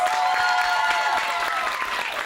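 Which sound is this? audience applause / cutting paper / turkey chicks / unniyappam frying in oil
audience applause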